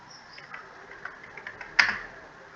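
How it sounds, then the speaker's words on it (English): Light typing on a computer keyboard: a handful of soft, quick key clicks in an irregular rhythm, then one brighter, sharper keystroke near the end, all close and fairly quiet. "Let us type Kanishkar"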